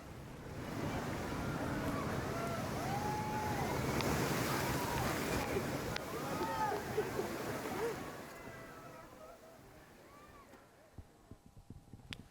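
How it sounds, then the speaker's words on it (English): Surging sea waves crash over a watching crowd, a broad roar of surf and wind at a distance with faint shouts and cheers mixed in, then the water fades away toward the end. "people gathering to watch the spectacular, laughing and cheering as they were drenched by the surging water"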